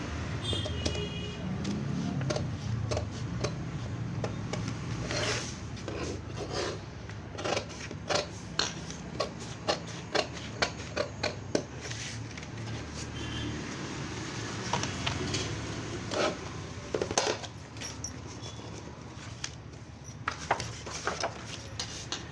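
Scissors cut through blouse lining fabric laid over the main fabric, a steady close rasping of cloth with repeated sharp snips and clicks throughout.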